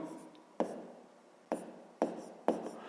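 Chalk or marker taps and strokes on a board as numbers are written during a fifth-grade math lesson, four crisp close hits with soft scraping between.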